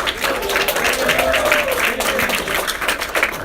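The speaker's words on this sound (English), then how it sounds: "Let's give them a big round of applause" A crowd applauds Jake and Barry at a campaign office opening, a continuous rattle of many hands clapping at close range for a few seconds, with faint voices mixed into the clapping.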